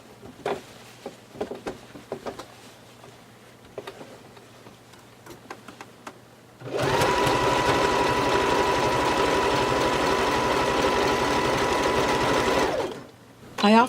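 A sewing machine runs a stretch stitch along the waistband of a pair of pants. A steady, close, fast mechanical chatter lasts about six seconds, after a stretch of quiet handling clicks.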